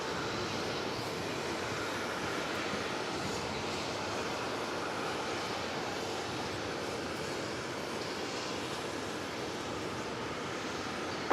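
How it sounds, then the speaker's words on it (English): A Boeing 787-9 Dreamliner arriving from Abu Dhabi lands at JFK airport in New York, a steady, broad jet engine roar that holds at an even level throughout without breaks. "the flight coming in from Abu Dhabi, 787-9 Dreamliner"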